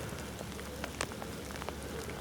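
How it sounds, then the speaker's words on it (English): Light rain spits and patters over a riverbank, a steady hiss of fine drops with a few sharper taps standing out close by. "Spitting and spotting with rain"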